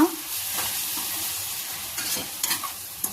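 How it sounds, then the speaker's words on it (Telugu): Vegetable biryani masala is stirred in a pan with salt, turmeric, coriander powder and curd, making a soft continuous sizzle with a few scraping stirs of the spoon, close and alone. "ధనియాల పొడి, 1 స్పూన్ ఏమో ఉప్పు వేసుకొని కలుపుకున్నా."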